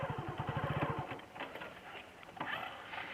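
A motorcycle engine running with light revving during a slow U-turn, a rapid low putter at first that fades into a softer, rougher hum with small throttle blips.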